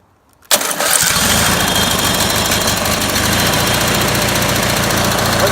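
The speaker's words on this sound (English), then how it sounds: "Let's find out she starts up." A Briggs & Stratton small engine, just fitted with a repaired starter motor, cranks briefly and catches, then settles into a loud, steady running drone close by with no talking.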